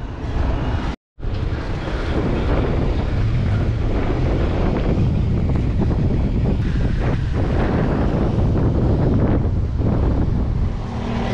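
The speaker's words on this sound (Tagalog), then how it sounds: "ang lakas ng hangin sa lubong" Strong wind roars constantly into the microphone during a long bicycle ride from Manila to Pagudpud, loud and buffeting, with a brief dropout near the start.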